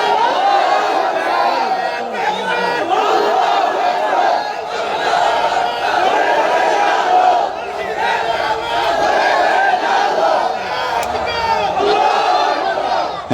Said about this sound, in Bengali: কি মাহফিলে মাঝখান দিয়ে তাকবীর দেওয়ার মতো কেউ নাই?